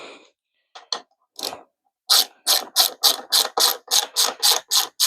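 A bolt being tightened on a Yamaha XT600 carburetor: a few scattered clicks, then a steady run of about a dozen sharp, evenly spaced ratcheting strokes, close and fairly loud with no talk.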